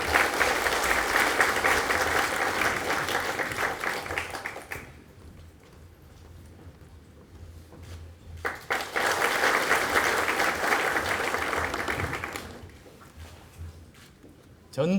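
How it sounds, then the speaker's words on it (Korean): An audience at a Korean party meeting of provincial and local council members applauds in two loud, sustained bursts of clapping, separated by a quieter stretch of room noise. "뜨거운 박수로 안철수 대표님의 말씀을 전해드리도록 하겠습니다"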